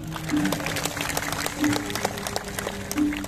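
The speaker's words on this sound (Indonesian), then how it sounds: "Tepuk tangannya dong suksesnya Pemda Bangli." An outdoor crowd at a Balinese drama gong performance in Bangli's town square claps continuously, with a faint steady hum and brief tonal swells running beneath the applause.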